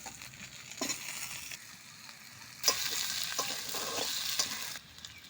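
Potatoes going into hot oil with fried onion for a fish and potato curry, a low sizzle swelling into a louder, steady hiss with stirring scrapes, close up and without talk.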